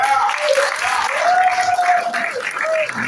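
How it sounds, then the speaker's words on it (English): Audience applause at a California GOP gubernatorial primary debate, a short burst of clapping with a sustained tonal whistle or cheer running through it. "my father, Mark K. Torres, round of applause."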